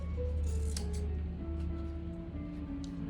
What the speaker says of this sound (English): Now we're gonna just trim down these ends a little bit